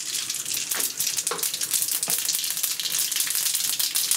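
Mustard seeds and dal crackle and sizzle in cold-pressed sesame oil during tempering for a bottle gourd sambar, a steady dense frying hiss with scattered pops, close and fairly loud, no talking.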